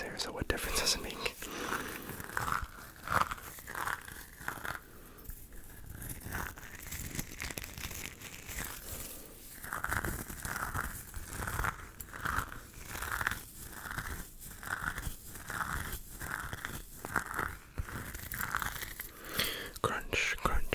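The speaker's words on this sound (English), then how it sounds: "Crunch, crunch, crunch in your ear. Crunch in your left ear. And then crunch, crunch, crunch in your right ear." Crisp ASMR crunching close to the microphone, a series of sharp crinkly crunches in quick bursts, some softer early on and then a steady run of distinct crunches, with whispering mixed in.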